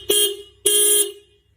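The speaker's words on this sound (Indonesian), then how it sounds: "Ini klakson original bawaan mobil." Two short honks from an original factory car horn, close and clear: a brief toot followed by a longer blast that fades out, with nothing else heard.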